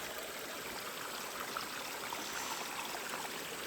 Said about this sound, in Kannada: ಆ ಕಡೆ ಫುಲ್ಲು ನೋಡಿ ವಾಟರ್ ಫಾಲ್ ಯಾವ ಥರ ಇದೆ